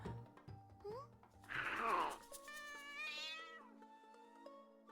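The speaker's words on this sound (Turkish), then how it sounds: "Küçücük bir kedi nasıl bu kadar gürültü çıkarır?" A small cat lets out a run of loud, close meows and a drawn-out caterwaul, the cries rising and wavering over a few seconds, with a voice faintly mixed in.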